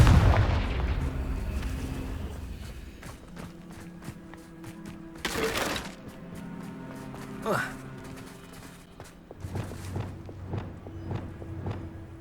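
In the Hogwarts Legacy video game, Confringo blasting spells go off as several sharp, booming explosions spread over a busy battle soundscape of thuds and impacts, with speech throughout.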